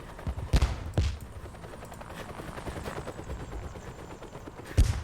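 A helicopter in the Korean War video game Theatre of War 3 Korea, with a steady rotor drone in the background punctuated by a few loud, sharp gunshot-like bangs near the start and end.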